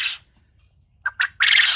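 Homestead birds such as pigeons and quail call in three short, loud bursts near the end, with the last call longer and more sustained, close to the microphone, following a faint chirp at the start and a quiet pause.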